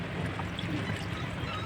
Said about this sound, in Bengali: এরপর জলটা দিয়ে দেবো